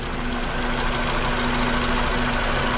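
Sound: gasoline car engine idling

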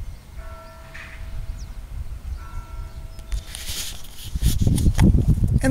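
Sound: church bells ringing at a seaside Catholic church

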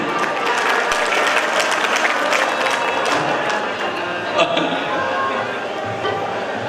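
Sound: audience clapping at a devotional performance

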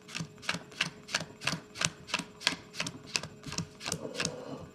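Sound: playing cards being dealt into a pile

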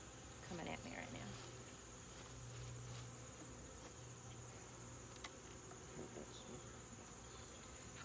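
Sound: honeybees buzzing around an open comb hive

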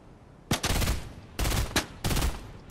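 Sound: gunfire from the player shooting in a video game

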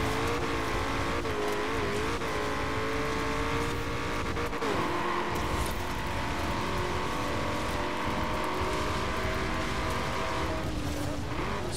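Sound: Hoonigan Ford Bronco sliding through a corner, video game Forza Horizon 4

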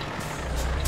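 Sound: truck engine in video game

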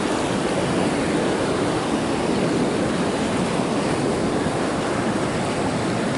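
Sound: sea waves

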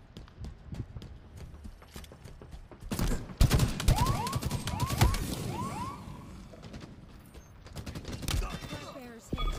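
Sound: gunfire in video game Halo Infinite multiplayer

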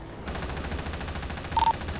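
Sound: gunshots in the video game GTA

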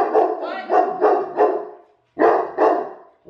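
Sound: dogs barking

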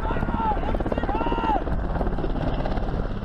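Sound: Black Hawk helicopter

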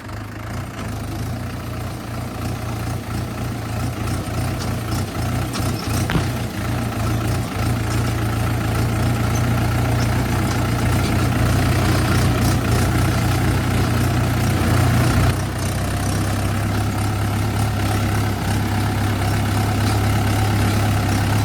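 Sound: tractor engine running in gear

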